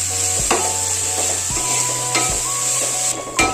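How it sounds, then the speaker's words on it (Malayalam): Onions with salt sauté in a pan while being stirred, a close sizzle broken by scraping strokes of a spoon against the metal and faint clinks, with no voices. "കൂടെ ചേർത്ത് കൊടുത്ത് നല്ലപോലെ ഇളക്കി വഴറ്റി ഒരു ബ്രൗൺ കളർ അങ്ങോട്ട് ആക്കി കൊണ്ടിടുന്നു."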